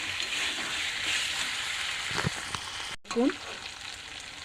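Ginger paste frying in a pan, a steady soft sizzle running throughout with a few stirring scrapes, while a voice briefly speaks near the end.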